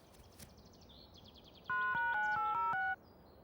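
A mobile phone plays a short, loud, bright electronic melody of a few stepped notes lasting just over a second, after faint chirpy beeps from the handset.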